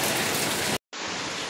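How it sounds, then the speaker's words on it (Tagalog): Heavy rain pours down in a dense, steady hiss that briefly cuts out to silence for a moment before resuming just as strongly. "So yan na, bumuhos na ulan."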